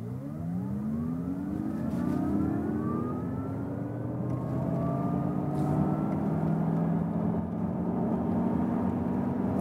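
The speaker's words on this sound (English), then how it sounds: "what about the acceleration here for the Mazda MX-30?" Mazda MX-30 electric car accelerating hard from a standstill, slightly uphill up to about 90 km/h, with a steady rising electric motor whine and continuous road and tyre noise building throughout, loud and close, no talk.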